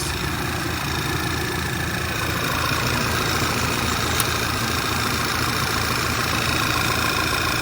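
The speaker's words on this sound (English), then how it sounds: "Yeah, the engine is running fine." A 2009 Volkswagen CC Sport engine idles steadily, a constant low rumble with a faint mechanical hum, running alone without voices.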